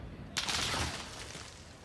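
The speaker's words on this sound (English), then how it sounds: "Yeah, that's a lot of gunfire." Gunfire in a Modern Warfare Search and Destroy match: a sudden loud burst of rapid shots starts about a third of the way in, then thins into a sustained crackling wash that fades slightly, with faint voice underneath.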